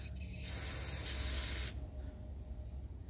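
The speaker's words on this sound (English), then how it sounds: "Just spray that off real quick." Carburetor cleaner sprays onto the float bowl of an old Snapper mower's carburetor, a close, steady aerosol hiss lasting about a second and a half before cutting off to low background noise.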